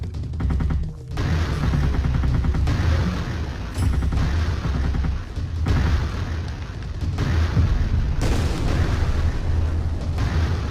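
Thermobaric laser-guided missiles firing and exploding in a video game, a dense continuous barrage of booming blasts and rumbling detonations, loud and sustained with brief dips between volleys.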